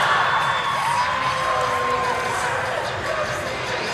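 Dense, sustained crowd cheering and shrill whoops in a gym during high school cheerleading state finals, a steady roar of many voices throughout.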